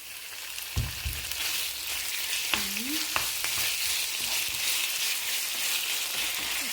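Chicken sizzles steadily in a pan with garlic and onion, frying at a moderate level, with a few scrapes and knocks from stirring.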